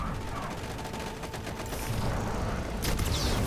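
Gunfire in a Destiny raid rattles in quick repeated bursts over steady game noise, moderately loud and continuous across the moment.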